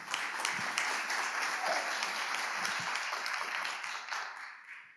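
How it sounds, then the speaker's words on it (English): A conference audience applauds at a tech company debut stage event in Seoul, steady dense clapping throughout that softens slightly toward the end. "Please give a round of applause."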